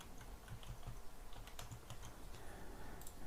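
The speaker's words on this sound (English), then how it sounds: "I'm just going to type in my name over there." Quick keystrokes on a computer keyboard typing a name, a steady run of light clicks at close range with no talking.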